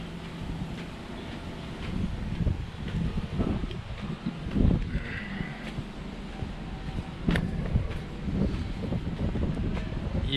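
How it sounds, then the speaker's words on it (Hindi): Strong stormy wind in Karachi gusts steadily past the microphone, a continuous rough low roar with buffeting swells and faint rustling. "चारों तरफ से तूफानी तूफानी हवा चल रहा है"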